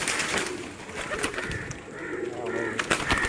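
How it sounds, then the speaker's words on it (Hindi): Pigeons kept at a house in Mirpur, Azad Kashmir, coo softly at close range, several low murmuring calls over faint background noise. "सारे कबूतर जो मैं आपको दिखा रहा हूँ"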